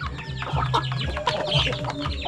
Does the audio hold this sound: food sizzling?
no